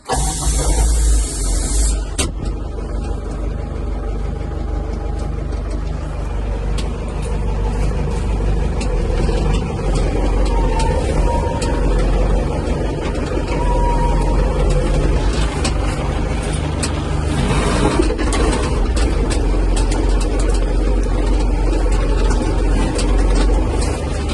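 Tractor with an enclosed cab, its engine starting with a short burst and then running steadily and loudly nearby, a continuous low rumble with some rattling noise.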